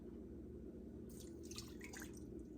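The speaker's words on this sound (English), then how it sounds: "we're going to put in 1/2 cup of water" Half a cup of water pours into a pan of sugar and light corn syrup for divinity candy, a short faint trickle and splash against a quiet hum.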